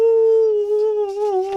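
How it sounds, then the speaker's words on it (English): Treacle the dog cries out in a Halloween read-aloud story as a single drawn-out, steady howl-like wail that stays loud and close for its whole length, with no other voices. "Treacle barked even louder."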